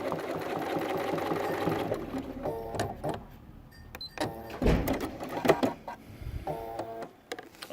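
A sewing machine stitches through a quilt sandwich in quick rhythmic bursts, pausing and restarting several times, with mechanical whirring and ticking close by and no talk.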